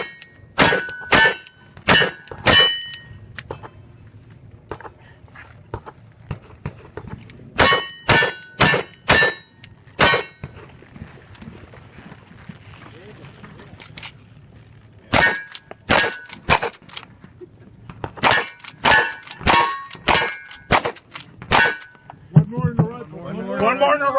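Rifle shots ringing off steel targets at a cowboy action shooting championship, sharp metallic clangs coming in quick rapid-fire runs with short pauses between strings, while people talk in the background.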